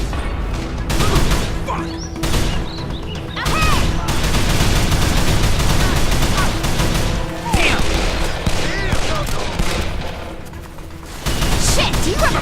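Rapid bursts of video game gunfire from Call of Juarez: The Cartel crackle loudly, fusillades and machine-gun volleys repeating with short pauses, while a voice shouts over the shooting.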